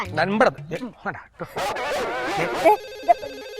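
A mobile phone ringtone melody starts up partway through, playing a repeated electronic tune after people finish talking nearby.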